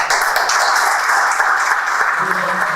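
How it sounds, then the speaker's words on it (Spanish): Sustained applause from an audience at a producers' meeting in La Pampa, dense, even clapping throughout with faint voices underneath. "Víctor, nuevamente el aplauso."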